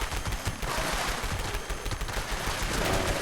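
Rapid gunfire in Fallout 76, heard as a fast, dense rattle of shots with no gaps, loud and steady for a few seconds.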